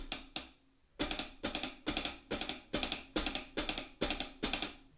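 A linear drum groove played with double strokes on the hi-hat with the right hand alongside the hi-hat foot, after two opening hits, sounds as a fast, even run of crisp, ringing hits, close and loud.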